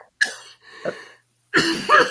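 A few harsh coughs, close and loud, separated by short pauses, with a rougher throaty burst at the end.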